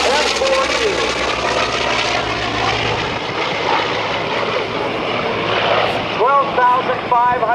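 A Vought F4U Corsair piston-engine fighter flies at the 2009 NAS Oceana airshow, its loud, rough propeller drone sweeping past and gradually fading, with voices faintly present in the background.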